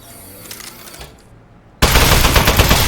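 Rapid automatic gunfire in the video game Aperture Desk Job bursts in loud and dense after a quieter stretch of game ambience, continuing as a sustained volley to the end.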